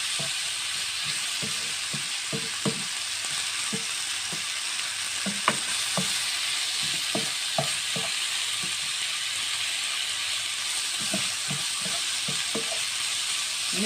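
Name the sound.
chicken frying and being stirred in a pan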